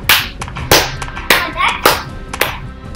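Five sharp, evenly spaced hand claps from a Fortnite slow clap emote ring out slowly, one roughly every half second, loud and close with a slight echo.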